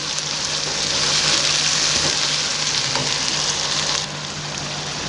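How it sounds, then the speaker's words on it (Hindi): Taro and mutton frying in a pan, a loud continuous sizzle that eases a little near the end, with no voices. "एक 2 मिनट हमें इसी तरीके से हम इसे फ्राई करेंगे।"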